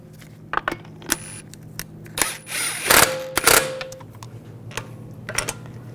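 A power tool snugs down the hub bolts on a 2011-2018 Volkswagen Jetta during a front wheel bearing job: a couple of short, sharp whirring bursts among scattered clicks and clanks in a quiet shop.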